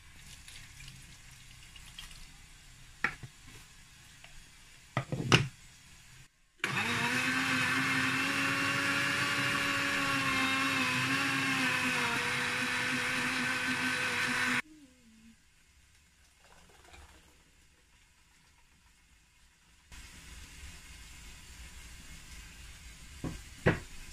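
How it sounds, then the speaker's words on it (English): A blender whirs loudly for about eight seconds blending pepper with water, a steady high-pitched motor drone between quieter kitchen clatter and knocks. "So I'm going to blend the pepper for the vegetable."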